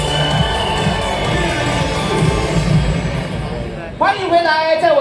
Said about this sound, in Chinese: 我们就是需要这种欢呼